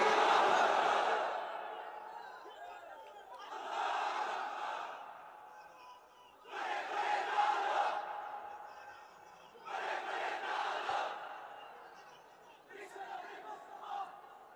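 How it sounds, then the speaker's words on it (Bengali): A crowd at an Islamic sermon shouts the takbir chant in five loud, roaring bursts about every three seconds, each rising and then fading into a short pause before the next. "তাকবীর পড়েন তো দেখি, যারা চলবে বলতেছেন লিল্লাহি তাকবীর"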